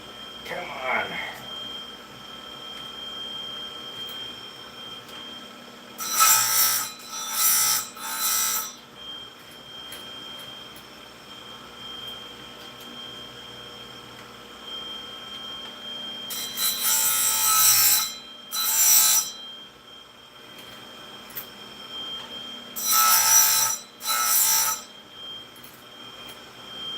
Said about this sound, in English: So I'm just sharpening chainsaw chains.